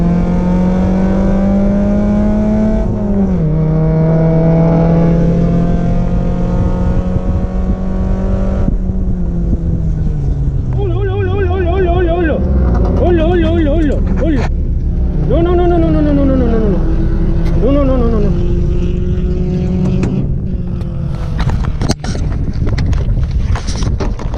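A race car's engine screams onboard on track, revving through gear changes with rising and falling pitch amid heavy wind noise, then a stretch of abrupt chopping, bursting sounds from a nearby teammate's crash, with a voice speaking over it.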